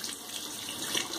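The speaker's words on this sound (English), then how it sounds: "Let me rinse real quick." Tap water runs steadily into a sink for a rinse during a wet shave, a close, soft continuous splashing hiss with no voices.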